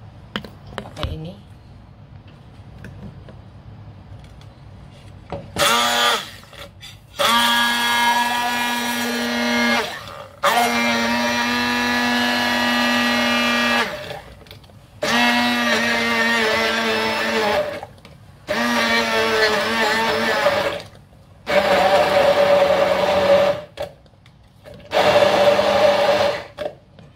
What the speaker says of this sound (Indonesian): Kita blender ya,